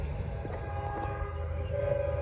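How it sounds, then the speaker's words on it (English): A Norfolk Southern freight train passes at a distance, its horn faint and steady over a low rumble of rolling wheels. "That's train 24X."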